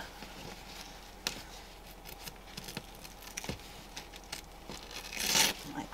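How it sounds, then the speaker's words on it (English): Velcro straps on folding camper van blinds in a Ram Promaster 136 short-body van are pulled apart, giving a few quiet ripping crackles and soft handling rustles, with one louder tearing burst near the end. "all we have to do is unvelcro the straps"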